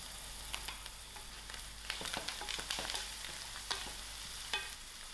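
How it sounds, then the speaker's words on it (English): Garlic and green chilies fry in a pan for a mealie rice biryani, a steady sizzle broken by several sharp stirring scrapes and clinks, close and fairly quiet with no voices. "then my green chilies, I'll allow this a few seconds to fry"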